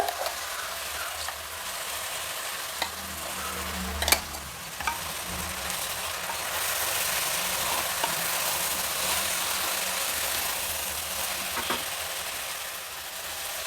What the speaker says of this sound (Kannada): ಈಗ ರುಬ್ಬಿಟ್ಕೊಂಡಿರೋ ಮಸಾಲೆನ ಇದರಲ್ಲಿ ಸೇರಿಸ್ತಾ ಇದ್ದೀನಿ.